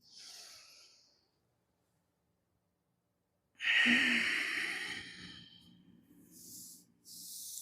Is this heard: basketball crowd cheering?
no